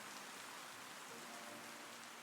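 Steady rain falls on an evening in a soft-spoken fantasy roleplay, a dense, even hiss of drops on surfaces that fills the whole stretch with no voice over it.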